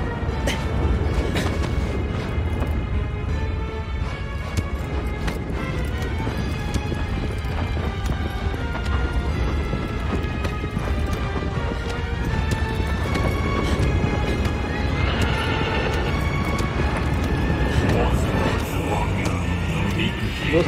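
A horse galloping in Shadow of the Colossus, a steady loud clip-clop of hooves over continuous game music and noise, with a voice now and then.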